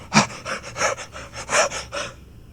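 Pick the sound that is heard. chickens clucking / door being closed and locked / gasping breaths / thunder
gasping breaths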